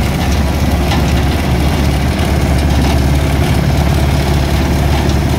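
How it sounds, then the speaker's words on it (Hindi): A tractor engine runs loud and close during a farm ride, a continuous low, rumbling drone with steady vibration and no break. "मेरी फर्स्ट राइड है ट्रैक्टर में"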